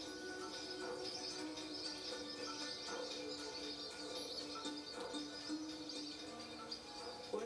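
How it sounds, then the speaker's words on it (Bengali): Migratory birds, mostly ducks, chirp and call at a lake, a continuous soft chorus of overlapping tweets heard from a distance over low background noise, without talk. "এদেরই কলকাকলি আর কিচিরমিচির শব্দের সৃষ্টি মধুময় সুরের আবহে।"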